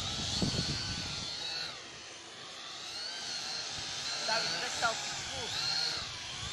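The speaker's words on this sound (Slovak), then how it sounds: "práve teraz púšťame drona" A drone flying outdoors gives a steady whining, hissing engine-like drone that rises and falls in pitch, with occasional voices and handling noise underneath.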